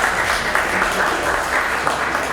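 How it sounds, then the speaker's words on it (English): A crowd at an entrepreneurship gathering gives sustained applause, a thick, even roar of many people clapping at once, loud and unbroken throughout. "can we get a round of applause for the businesses who have already presented up here before?"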